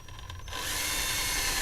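A power drill bores a hole while a wireless lavalier mic is being modded, a short catch followed by a steady, loud whirring grind that runs to the end with no talk.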